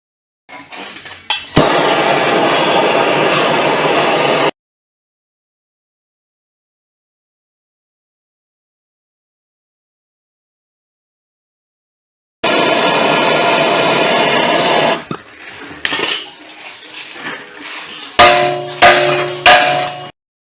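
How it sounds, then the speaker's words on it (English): A chipping hammer knocks stubborn, stuck-on deposits off the exhaust flange of a 2006-2011 Chevrolet Impala. Two loud, rapid hammering bursts are separated by a long silence, followed by scattered sharp metallic clinks. "Usually when you use a chipping hammer on most vehicles, the stuff comes off a lot easier than this."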